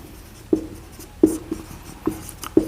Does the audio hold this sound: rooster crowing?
no